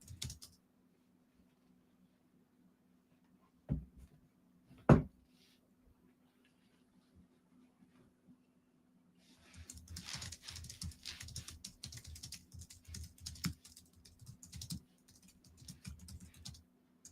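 A computer keyboard typed on in a quiet room: after long silence broken by a couple of sharp knocks, a fast run of light, close key clicks continues to the end.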